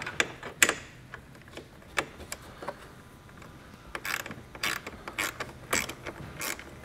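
Bracket bolts being loosened with a ratchet on a 2022 Chevrolet Colorado during base plate installation: a series of sharp, close clicks and metallic ticks in irregular bursts, with quieter mechanical rattles between them and no talking.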